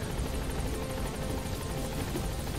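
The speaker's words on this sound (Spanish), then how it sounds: "Viene el chopper, ¿no?" A helicopter in Metal Gear Solid V arrives with a steady, loud rotor chop and engine drone, continuous and close throughout with no talk.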